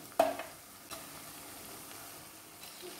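Crabs tipped into masala ground in a stone mortar as it fries in a pan give a sharp clatter and burst of sizzle, then settle into a steady low frying hiss with a second soft stir-scrape.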